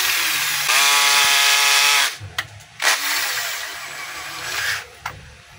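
A cordless DeWalt 10.8V drill runs in forward to tighten its chuck, with a steady whining motor buzz for about a second and a half before stopping, followed by a few short clicks and a quieter second burst.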